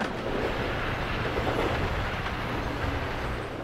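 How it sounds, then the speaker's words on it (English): Train rolling along rails, a continuous loud rumble with a broad wash of wheel and carriage noise that stays steady throughout, with no voices. "Can this train go any faster?"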